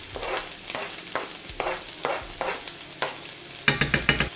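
Onions and vegetables fry in a pan under a steady sizzle, stirred in regular scraping strokes about twice a second, ending in a quicker, louder flurry of stirring close by.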